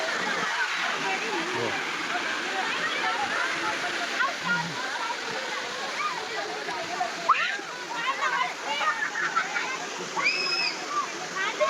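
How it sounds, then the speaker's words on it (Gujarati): Steady rushing water of a natural waterfall on a Girnar trek in Junagadh fills the background throughout, with people talking over it. "જો પાણીનો ધોધ તો નેચરલ પાણી"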